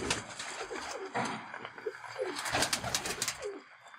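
Pigeons coo repeatedly in a loft housing fancy Teddy pigeons offered for sale, the soft throaty calls overlapping in an irregular rhythm at close range, with no talking heard over them.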